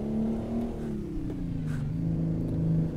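Detroit Diesel engine in a Mack MH613 Ultraliner truck in American Truck Simulator, revving steadily and loudly with a deep droning tone that rises and falls slightly, heard alone up close.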